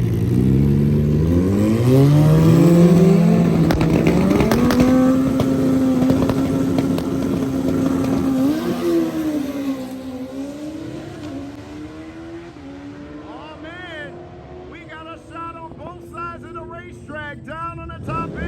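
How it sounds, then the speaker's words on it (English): A Hayabusa and El Jefe, two drag racing motorcycles, launch side by side at Lapeer International Dragway. Their engines roar loudly, climbing in pitch through the gears, then fade as they pull away, leaving faint chirping sounds toward the end. "We got El Jefe here in the left-hand lane taking on the nasty Hayabusa of Joby B."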